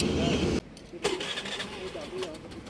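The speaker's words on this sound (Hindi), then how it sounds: "हमने होंडा एक्टिवा को स्टार्ट कर लिया है।" A Honda Activa scooter engine starts with a brief loud burst, then settles into a quieter idle while someone talks over it.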